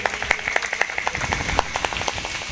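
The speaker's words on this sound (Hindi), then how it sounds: "तालियों से स्वागत करेंगे भैया का।" A crowd claps in welcome for a visiting politician at a local gathering. The clapping is brisk and dense, fairly close and continuous for a couple of seconds, with no talking.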